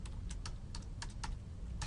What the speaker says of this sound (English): Some days my typing, I tell ya.